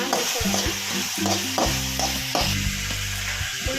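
Mixed vegetables for upma stir-fry in a hot pan, a loud continuous sizzle with repeated scraping strokes of a spoon, close and without talk.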